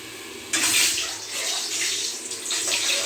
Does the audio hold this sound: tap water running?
yes